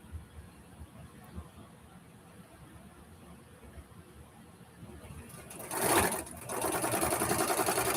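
A sewing machine stitching at a slow pace, a low steady hum under faint background noise that swells louder and brighter near the end.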